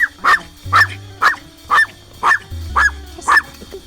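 Dog barking in a steady series of about seven sharp, evenly spaced barks, close and fairly loud, over a low background hum.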